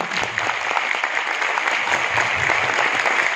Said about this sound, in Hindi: जोरदार तालियां होंगी